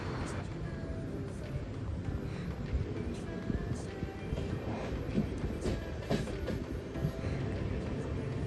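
A train rolls into Thrissur station at night, a steady rumbling rail noise with scattered clanks and squeals, fairly close, under occasional faint voices.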